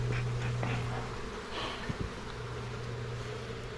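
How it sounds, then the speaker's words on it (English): Agitated honeybees pouring out of a weak, queenless hive, a steady close droning buzz of many insects with a humming tone, a few faint knocks in between. "See all the bees are coming out of there, they're angry"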